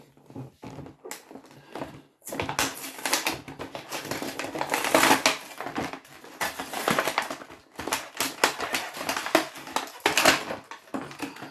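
Plastic packaging of vintage Dick Tracy Playmates action figures crackles and crunches as it is torn open, loud, close, irregular rustling and tearing bursts after a brief quiet start.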